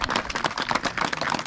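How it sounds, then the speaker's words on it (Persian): Audience applauding at a volleyball league event in Loman, Jaghori, a short burst of steady, dense clapping from a gathered crowd. "تشویق کنید."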